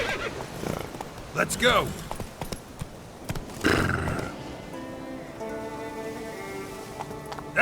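Roach, Geralt's horse in the video game The Witcher 3, whinnies loudly and trots with clip-clopping hooves, while a voice briefly calls out over the game sounds.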